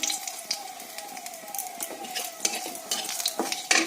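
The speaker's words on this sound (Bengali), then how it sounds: "রাঁধুনি ফোড়ন দিয়ে দিচ্ছি আজকে একবারে ফোড়ন দিয়ে বসাবো একটা শুকনো লঙ্কা দিয়ে দিলাম" Radhuni seeds and a dried red chili hit hot oil in a pan, a bright crackling sizzle with scattered spattering pops and utensil clinks, close and continuous, over a faint steady tone.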